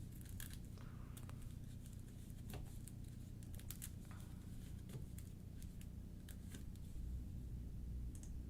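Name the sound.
shuffling a discard pile of game cards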